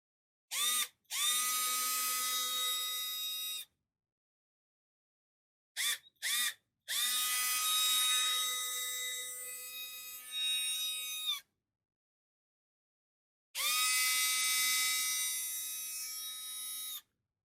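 Rewound 775 DC electric motor running off a battery, giving a loud, steady high-pitched whine in three separate bursts with short blips between them, alone with no talk.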